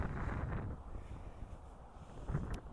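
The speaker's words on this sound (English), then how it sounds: "It's a windy day." Wind gusts across an outdoor 40 by 20 metre dressage arena on a windy day, a low, rough blustering rumble buffeting the microphone, stronger at the start and again near the end.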